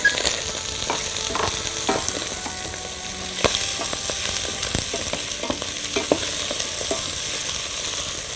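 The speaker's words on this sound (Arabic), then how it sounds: "هزود معاه شوية زيت وهحط اللحمة تتشوح" Meat sautéing in oil with onion in a pan for an Egyptian taro dish, giving a loud continuous sizzle broken by sharp clicks and scrapes of stirring.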